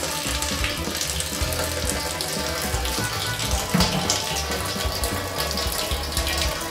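Liquid pours steadily into a brew pot during home brewing of an ESB-style beer, a continuous close splashing and trickling stream with no talk over it.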